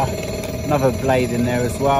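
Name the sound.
construction work at a new bus station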